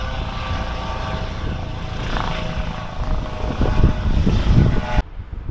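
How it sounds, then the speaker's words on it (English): Police helicopter passing overhead in Manchester, a steady loud rotor and engine drone that swells slightly toward the end before cutting off abruptly. "we've got the police helicopter coming back in."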